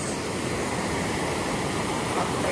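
Waves break and wash continuously at a surfing beach, a loud, steady roar of surf with some wind and no speech.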